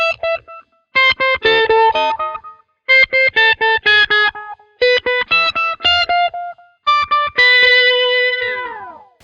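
Electric guitar runs through a short tap-tempo delay pedal, the riff chopped into quick rhythmic bursts of repeating stuttered notes. It stays loud and close, with no talking, and ends on one held chord that rings out.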